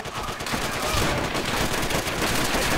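Gunfire in the video game Call of Duty: World at War, a dense, continuous rattle of rapid automatic shots that fills the whole stretch, loud and close with no pause.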